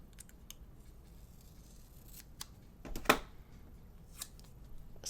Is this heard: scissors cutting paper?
yes